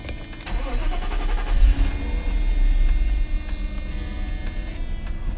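Mercedes SL500 R129 V8 cranking and catching, then settling into a steady idle that stays close and moderately loud with no talking over it.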